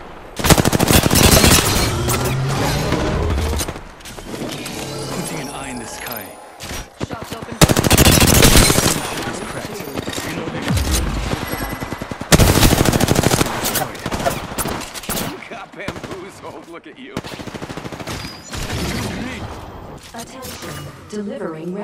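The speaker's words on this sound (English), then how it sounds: "Shot fired, and they're hitting me." Loud bursts of automatic gunfire in the battle royale shooter Apex Legends, several long rattling volleys separated by short gaps, close and heavy, with voices talking over parts of the fight.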